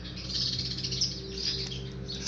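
Garden birds chirp and twitter continuously at moderate distance, a busy high-pitched chorus of overlapping tweets with a steady low hum underneath.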